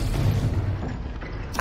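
A Confringo explosion spell cast in the video game Hogwarts Legacy, a loud, heavy, rumbling blast that fills the short moment and fades into a low roar.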